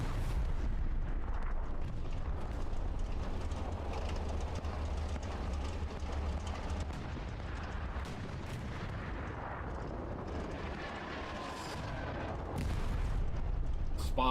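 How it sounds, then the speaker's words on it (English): Self-propelled artillery rounds landing in Hell Let Loose, a World War II multiplayer game, deep rumbling explosions and distant booms over continuous battlefield noise, with people talking over it. "Spa rounds landing just a little too far to the north."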